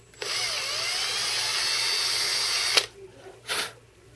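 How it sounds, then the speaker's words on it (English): A power drill whines steadily for about two and a half seconds while pre-drilling holes in a guitar body, stopping with a click, followed by one short burst of the motor. "I just take the drill bit on those 2 ones that I punched, and you pre-drill at the stop."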